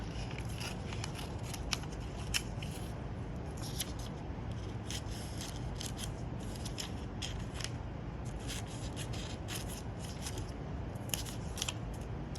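Scissors cut repeatedly through paper at a bookbinding bench: a steady series of close, crisp snips and rustles over a soft constant background hiss, with no talking.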